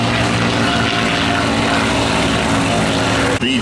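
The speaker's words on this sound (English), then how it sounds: "And just taking off right now, the beautiful P-51P." A P-51 fighter plane takes off at an aviation day event, its propeller engine a loud, steady droning roar with a buzzing growl, close and continuous with a brief dip near the end.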